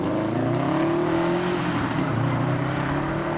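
A Subaru pulls away from a car meet, its engine note a steady, fairly close drone that shifts pitch slightly as it accelerates, with no talk over it.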